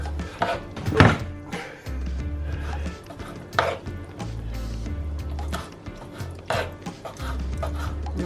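A knife chops mussels repeatedly on a board in uneven bursts, close by, with a low mechanical hum underneath and no talking.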